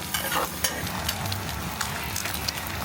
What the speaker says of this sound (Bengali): ডিম দিছি চুলায়